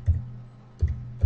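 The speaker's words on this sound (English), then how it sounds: "Let's type in a web address" A few keystrokes on a computer keyboard while entering a web address, three soft clicks spaced apart in a quiet room, no talking.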